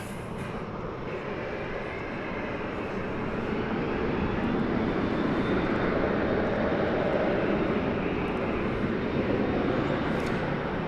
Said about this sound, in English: We've got American Flight 1811 going out to Omaha, Nebraska. 737-800.